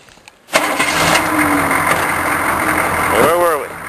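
A diesel engine with no glow plugs, on a worn machine with a loose oil line, catches abruptly and settles into a loud, steady idle close by, with a brief whine rising near the end.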